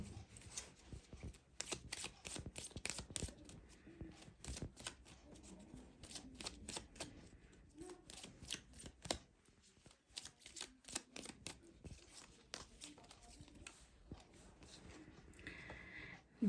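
A mini deck of tarot cards is shuffled over and over, giving bursts of crisp riffling and flicking that come close and fairly quiet, with short pauses between runs and no voice.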